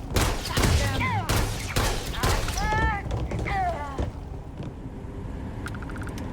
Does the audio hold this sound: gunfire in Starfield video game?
yes